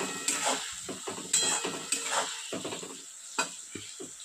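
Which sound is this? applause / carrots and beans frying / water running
carrots and beans frying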